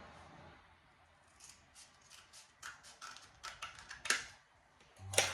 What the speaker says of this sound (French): Je vais couper.